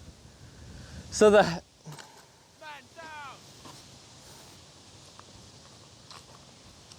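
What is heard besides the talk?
strong headwind blowing on the disc golf course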